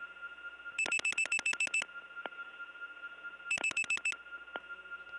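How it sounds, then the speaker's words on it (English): Two bursts of rapid electronic telephone trilling, each followed by a short tone, separated by a pause, heard against a steady background hum, from a 1979 step-by-step tandem telephone exchange in Gainesville, Georgia. "So get ready, we're going to hear 3 rings in a row."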